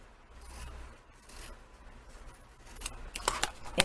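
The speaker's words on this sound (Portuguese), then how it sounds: "e aqui, que é a dobra, também vou cortar." Scissors snipping through fabric along a folded edge while making a small eco toiletry bag, quiet rubbing at first, then a run of sharp, close cutting clicks building toward the end.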